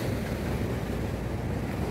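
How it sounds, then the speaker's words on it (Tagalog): Strong wind by the sea on Coastal Road in Davao City, a steady roaring gust buffeting the microphone with a broad surf-like rush, loud and unbroken. "Indo tarig kusog hangin eh."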